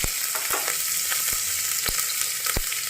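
Onion and green chili fry in hot mustard oil with popped mustard seeds, giving a dense, steady sizzle close by, broken by occasional sharp spatters and stirring clicks, with no speech.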